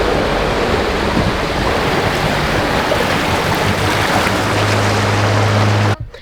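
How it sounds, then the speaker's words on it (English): Car fording a river on an outback road trip at El Questro, a loud continuous rush and churn of water close by with an engine drone underneath, cutting off abruptly at the end. "Next is Andy and Renee's turn across the river, and they managed to cope."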